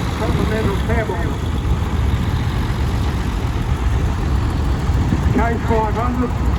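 A 1964 American vintage tractor fitted with a Continental cab idles at a wheat and wheels rally, a steady low rumbling engine heard close, with someone talking over it in places.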